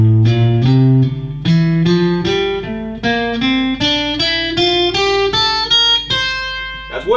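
A guitar plays a minor scale in fourth position, single notes climbing one by one in an even ascending run, close and clearly picked with no speech.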